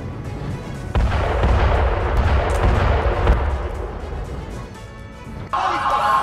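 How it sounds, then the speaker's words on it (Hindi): Explosions from strikes in southern Lebanon, a heavy booming blast with rumbling debris and crackling that lingers for several seconds before a second burst near the end. "दक्षिणी लेबनान में आईडीएफ के हमले का वीडियो।"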